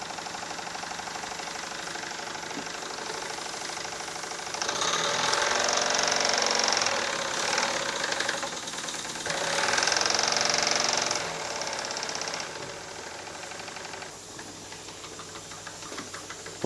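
Twin-cylinder model steam engine running steadily, a fast mechanical chuffing and clatter that swells louder in the middle, then eases back toward the end.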